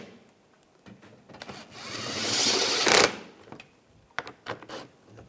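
A power tool whirs for about two seconds as it drives screws into a coolant reservoir on a 2013-2016 Dodge Dart 2.4L, followed by a few clicks and taps from handling parts.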